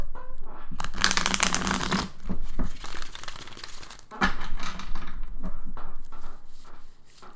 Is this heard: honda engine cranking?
no